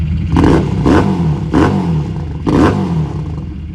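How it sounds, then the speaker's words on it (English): A Harley-Davidson Street 500 engine converted to 750, revs hard four times in quick succession, each burst rising sharply then dropping back to a rumbling idle, loud and close. "Boy, this thing revs."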